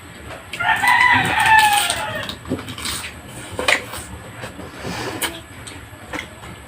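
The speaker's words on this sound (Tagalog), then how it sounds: "kaya maraming manok." Chickens cluck and a rooster crows at midday beside a Filipino street food stall selling lumpiang togue and kwek-kwek, the bird calls fairly loud and close in short bursts, with some background noise and faint voices around them.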